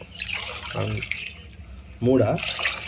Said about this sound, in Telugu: 2 గ్లాసులు వాటర్ వేసారు, చూసారా?